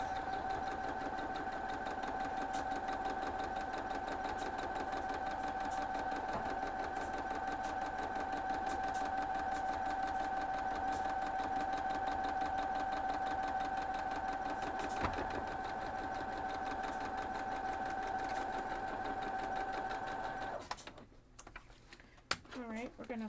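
Sewing machine stitching a quilt block, a steady, moderately quiet mechanical hum with a constant tone for about twenty seconds before it stops and brief handling noises follow.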